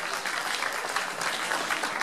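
Crowd applause at an olive and wine festival in Provence, dense steady clapping from many people close by, continuous and fairly loud.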